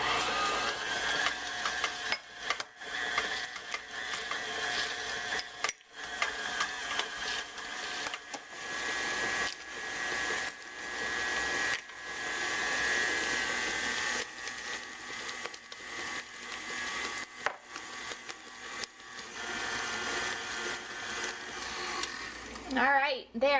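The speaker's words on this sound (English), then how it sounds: "We're going to drop in the eggs, and we're going to mix it up real good." An electric mixer beats eggs into pound cake batter with a steady whirring drone that starts and stops in places, while a person talks over it.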